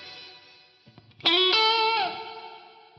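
A guitar tone runs through a Lexicon PCM81 chorus+reverb effect with diffusion off: a short strummed chord blooms into a shimmering, wavering sustain that fades smoothly.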